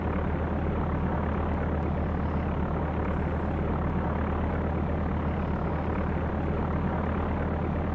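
A light aircraft engine held at full throttle in the X-Plane flight simulator, a loud, unbroken propeller drone with deep pulsing low end throughout. No talking is heard.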